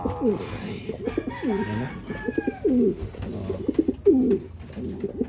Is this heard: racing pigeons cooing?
yes